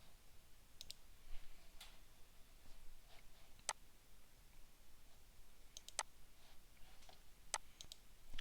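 Computer mouse clicking at a desk, a series of sharp, quiet single clicks spaced irregularly over low background hiss, with no talking.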